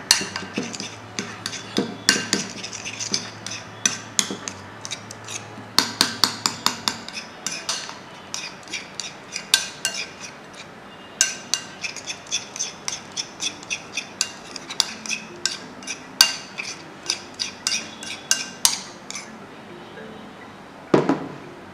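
A spoon stirs and clinks against a bowl while onion and other remedy ingredients are mixed, giving irregular close taps and scrapes that run for about twenty seconds.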